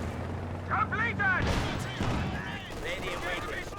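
Pack howitzers fire in a Company of Heroes 2 battle, giving a loud boom amid ongoing combat noise, with a commentator talking throughout.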